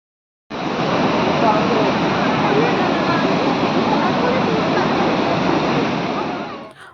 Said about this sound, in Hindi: और ये जो नदी है ये है सरस्वती नदी